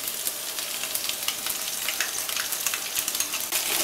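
Ginger garlic paste frying in a pan for restaurant-style kadai paneer, a bright continuous hiss and crackle with light spitting bursts throughout, close and alone.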